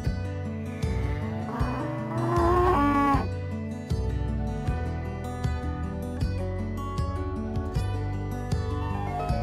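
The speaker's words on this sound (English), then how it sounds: "I am cow." A cow mooing, a drawn-out low call that rises and bends, heard over steady background music, fairly loud with no talk.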